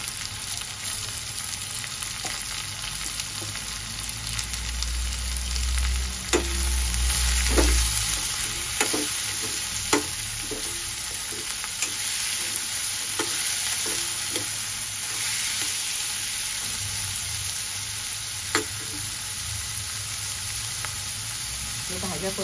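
Vegetables for a green prawn pulao sautéing in a pan, a steady broad sizzle with a run of sharp scraping stirs from a spoon, close and continuous with no talking.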